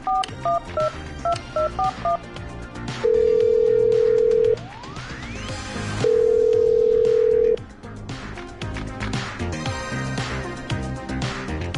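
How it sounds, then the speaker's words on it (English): A telephone being dialed in the video game Killer Frequency: a quick series of loud dialing tones, then long steady ringing tones separated by a brief sweep, followed by a busy backdrop of music and effects. "Okay, I'm dialing."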